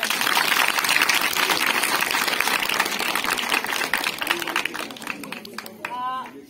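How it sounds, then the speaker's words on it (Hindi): Loud, dense applause from an audience at a menstrual hygiene awareness program featuring street theatre and dance, sustained and even for several seconds before thinning out, with a voice breaking through near the end. "तो एक बार जोरदार ताली बजा दीजिए।"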